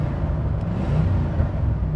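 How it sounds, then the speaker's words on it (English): Chevrolet Corvette C3 American sports car with a big front-mounted V8, idling with a deep, steady, fairly loud rumble that wavers slightly over two seconds, no voices. "It's a big boofy V8 in the front, makes all the right noises."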